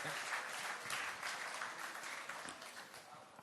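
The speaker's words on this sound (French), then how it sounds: "sous vos applaudissements, s'il vous plaît" An audience at a sports awards ceremony applauds the coach of the year, a dense, continuous burst of clapping heard from a distance at low level, tapering slightly toward the end.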